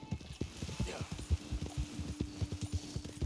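A large, slow horse's hooves clip-clop in a video game at a steady, close walking rhythm, with someone talking over the hoofbeats.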